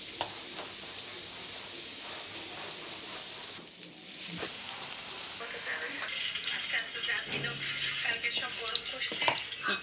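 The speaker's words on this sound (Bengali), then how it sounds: "চিংড়ি মাছগুলো একটু ভেজে নিব, হালকা ভেজে নিব।" Shrimp coated with turmeric and chili fry lightly in hot oil, giving a continuous close sizzle that grows busier and crackles more in the second half, with a voice talking faintly underneath.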